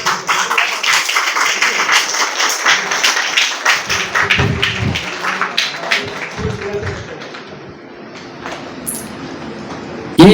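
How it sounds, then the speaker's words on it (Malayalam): An audience claps at an award ceremony for a speech competition in Palakkad, with dense applause that gradually thins and fades toward the end. "എല്ലാവരും ജോറായെന്ന് കൈയടിച്ച്"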